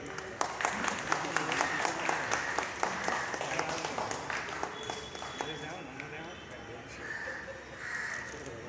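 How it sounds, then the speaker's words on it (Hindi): Audience clapping at a Rotary awareness program in Ulhasnagar, a moderate round of hands that trails off, with voices talking over and after it. "यस, तालियां बजा सकते हैं।"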